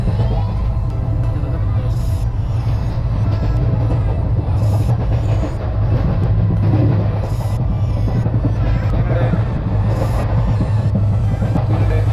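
A steady low rumble of a train to Delhi rolling along the tracks, heard from inside, with a constant drone and recurring clatter from the rails throughout.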